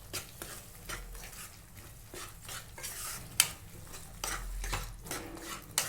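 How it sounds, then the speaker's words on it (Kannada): Spices such as coriander powder, garam masala, chili powder and turmeric are stirred into paneer masala in a pan on low flame, making faint, repeated scraping and clinking strokes over a soft sizzle, with no speech. "ಇಷ್ಟು ಹಾಕ್ಕೊಂಡು ಮಿಕ್ಸ್ ಮಾಡ್ಕೊಳ್ಳೋಣ."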